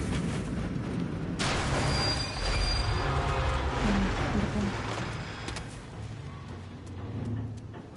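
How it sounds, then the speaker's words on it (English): Train passing in the video game Mafia: Definitive Edition, a loud rumbling roll of wheels with sharp high squeals and metallic screeches over several seconds, fading slightly toward the end. "Some kind of fucking train?"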